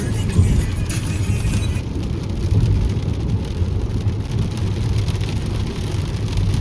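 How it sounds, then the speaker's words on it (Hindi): Heavy rain pelts a car driving on NH44 near Pathankot, giving a dense, steady hiss of drops under the hum of the moving car, with no voices. "और बारिश हो रही है भाई पठानकोट में।"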